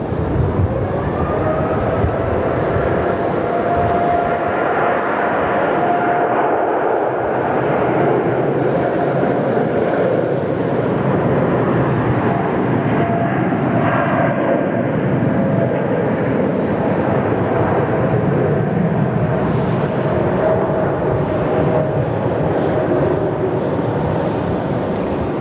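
Qantas 33 jet airliner departing Sydney Airport for Paris, a loud continuous engine roar with a broad rumbling wash that stays steady throughout.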